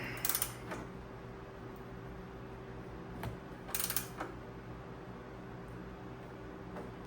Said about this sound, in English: that's a lot of leverage on this long wrench